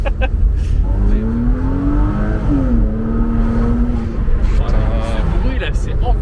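A Porsche Boxster 987-1 convertible's engine holds a low, steady drone that rises slightly, heard from inside the car beneath ongoing conversation.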